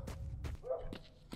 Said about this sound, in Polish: Szczekają jakieś psy, tu jakiś dźwięk, jakiś jęk.